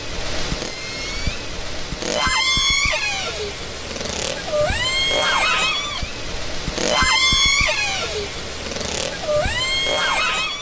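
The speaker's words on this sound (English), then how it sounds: "we are hearing what's believed to be calls from the mother to her dead calf" Orca mother's calls to her dead calf, picked up by an underwater hydrophone: repeated rising and falling whistle-like cries in two similar bursts over steady watery background noise.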